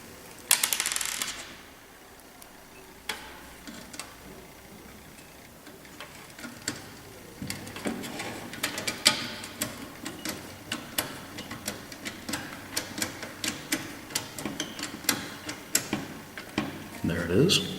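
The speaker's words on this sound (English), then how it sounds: "So go ahead and we put that bolt in." A bolt threaded into an Xbox 360 console makes quiet, irregular metallic ticks and small clicks, growing busier toward the end over faint room noise.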